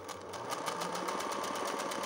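A sewing machine stitches a safety seam on festoon embroidery, with a fast, even, rapid-fire mechanical rattle running steadily throughout.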